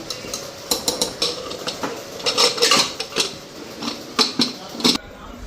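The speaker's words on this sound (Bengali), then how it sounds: "এখন প্রেশার কুকারে ঢাকনাটা লাগাই দিই।" A metal lid is fitted onto a pressure cooker with a series of sharp clanks, scrapes and knocks, loud and close in irregular bursts, while a voice speaks briefly.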